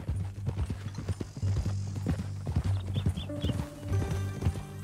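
Horse hooves clip-clop in steady rhythm in Red Dead Redemption 2, close and clear, with a brief whinny and some musical tones rising near the end.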